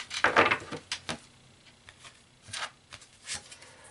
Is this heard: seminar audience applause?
no